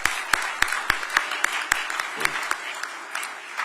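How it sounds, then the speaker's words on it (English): Sparse applause from an audience at a mayor's grant award event for Atlanta's film industry: a few sharp, evenly spaced claps repeating about three times a second over a soft room murmur, fading slightly toward the end. "yeah, we can clap for that"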